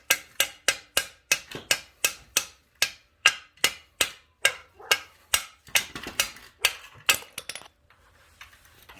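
Sharp metallic hammer blows drive a crankshaft bearing into a Honda ATV engine, about twenty evenly spaced, close strikes in a steady rhythm that break off into quieter scraping near the end.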